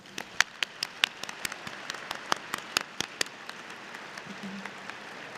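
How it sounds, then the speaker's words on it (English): Scattered applause at a high school graduation ceremony: sparse, individual hand claps ring out irregularly over a faint background hum, some sharp and close, others softer, thinning toward the end. "LHS graduates, let's give them all a big round of applause."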